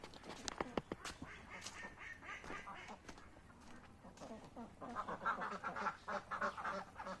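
Ducks quack inside a duck house, with several close, irregular calls that are denser in the second half, mixed with faint background noise.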